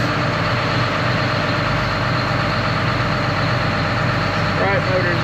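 A John Deere dozer's engine runs steadily and loud close by, a heavy low idle rumble holding constant throughout, with a brief voice surfacing near the end.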